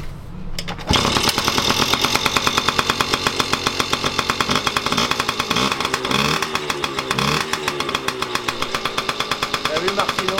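A restored Piwi 50 minibike engine starts abruptly after a short pause and runs close and loud with a rapid, slightly uneven putter and occasional revs, while voices talk over it.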